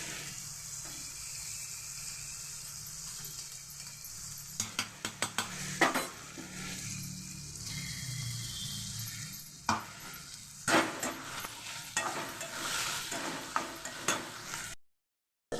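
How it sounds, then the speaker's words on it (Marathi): Onion, tomato and finely chopped green chili sautéing in a pan, a low sizzle broken by scraping stirs and clinks of a utensil against the pan, ending abruptly. "बघा कांदा टमॅटो बारीक केलेली मिरची असल्या म्हणजे परतली आहे"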